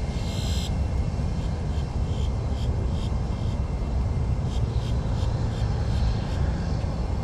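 A JetBlue airliner on a flight to Los Angeles LAX, heard as a loud, steady broadband jet roar and rumble throughout, with no talk.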